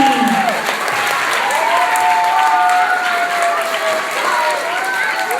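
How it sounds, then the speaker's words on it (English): An audience at a school author's rally claps for student authors. The applause is sustained, steady and fairly loud, with a few voices rising faintly over the clapping. "How about one more big round of applause for our authors"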